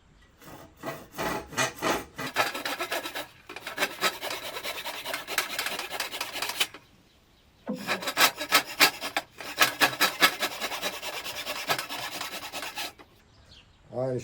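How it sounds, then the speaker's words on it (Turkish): A hand saw rasps through wood while cutting a shelf piece to depth, in steady back-and-forth strokes across two long sawing bouts separated by a brief pause, close and loud with no talking. "testere yardımıyla o derinliğe kadar, bu görmüş olduğunuz derinliğe kadar kesiyorum"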